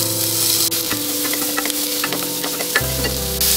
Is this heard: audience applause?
no